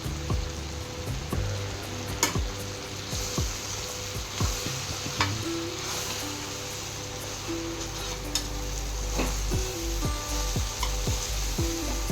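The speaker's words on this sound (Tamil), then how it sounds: "நல்லா கிளறி விட்டுலாங்க" Torn parotta pieces sizzle in a pan for vegetarian kothu parotta, with a steady frying hiss under frequent sharp scrapes and clinks of a spatula stirring and chopping at an irregular pace, close and fairly loud.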